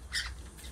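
Rainbow lorikeet giving a single short, harsh squawk, close and fairly quiet, over a low background rumble.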